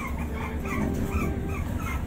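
American Bully puppies whimper and yip in a kennel, several high, thin cries overlapping close by for the whole moment, with no talk.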